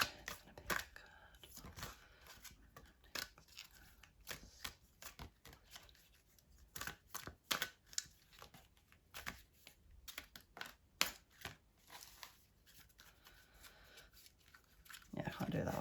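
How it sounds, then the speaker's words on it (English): Tarot cards are shuffled in a series of quick riffling bursts and soft taps, close and fairly quiet, scattered irregularly throughout. "I think I've got to start practicing my shuffling."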